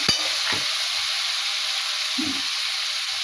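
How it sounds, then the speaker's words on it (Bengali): Spice paste of ginger, garlic, chilli powder and cumin with salt sizzling in a hot pan, a loud continuous hiss with a couple of brief stirring scrapes near the start and one later; no voices. "এটা ভালো করে কষিয়ে নেব।"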